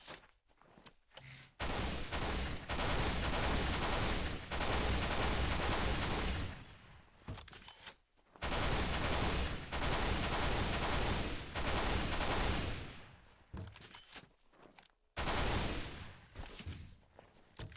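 Three-round-burst rifle fire in a video game, long stretches of loud, dense gunfire packed tightly together, broken by brief pauses before the shooting resumes.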